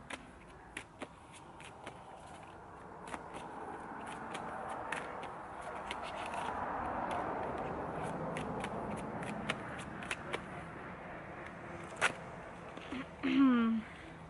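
A deck of oracle cards is shuffled by cold hands, giving soft riffling and sliding sounds with scattered sharp clicks of cards. The sound is quiet and close, with a brief bit of speech near the end.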